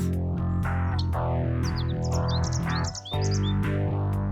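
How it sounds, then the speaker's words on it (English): Birds chirp repeatedly in the background, with clear, bright calls scattered throughout over a steady, loud, sustained musical drone. "I hear birds. Yeah, the birds."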